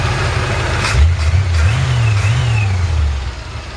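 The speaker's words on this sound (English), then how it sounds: "Engine runs great." A 1951 Chevrolet 3100 truck engine running close by with the hood open, a steady low idle that rises into a brief rev and then settles back down.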